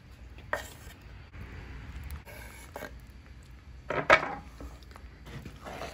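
Beans are mixed with cheese in a pot, giving soft scraping stirs and a few sharp clinks of a utensil against the pot, faint and close.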